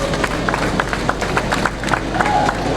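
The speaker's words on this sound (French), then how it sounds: "demander à toutes ces personnes qui sont là d'applaudir pour les hommes de médias" Audience at a press event applauding the media, a steady dense patter of clapping from a crowd sustained throughout, fairly close, with faint voices mixed underneath.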